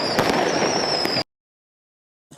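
Fireworks crackle and burst during a festival night in Toronto, a dense loud stream of pops and bangs with a few sharper cracks, followed by a sudden cut to silence and a faint fragment at the end.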